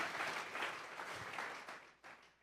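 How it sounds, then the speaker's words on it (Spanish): A church congregation claps together in a dense, sustained burst of applause during a Spanish-language sermon, fading slightly toward the end with no voices over it. "Vamos a regalarle ofrenda de palmas al Dios de la gloria."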